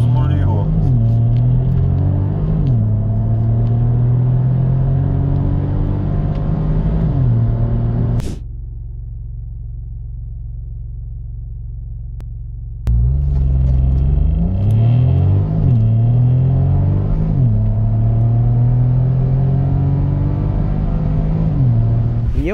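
A Ford Puma ST facelift launches and accelerates hard, its engine loud and close with rising revs through each gear. Midway the engine drops to a near-silent lull for a few seconds before it pulls strongly again.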